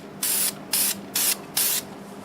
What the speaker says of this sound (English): I'm going to spray it in the more plain area, just so we can sneak up on that beautiful grain.